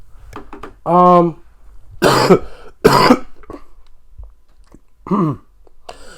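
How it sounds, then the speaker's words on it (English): Several harsh coughs and throat-clearing bursts in close succession, loud and near, separated by brief quiet pauses. "I feel myself about to start coughing"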